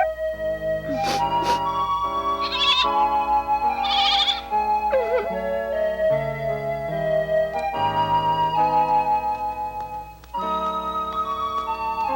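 Goats in an animated Swiss Family Robinson series bleat in a string of wavering, nasal cries, several overlapping calls rising and falling over a soft musical background.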